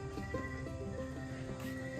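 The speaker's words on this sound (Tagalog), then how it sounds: "Ang stallion nga kabayo dong." A stallion neighs at an adventure park, a loud wavering whinny with clear harmonic pitch lasting about two seconds, close by with a little background noise and no talk.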